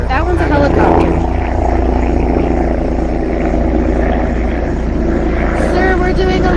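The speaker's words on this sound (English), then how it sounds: "In the purple helicopter." A purple helicopter flies overhead, its rotor and engine a loud, steady drone close by, with people talking over the noise.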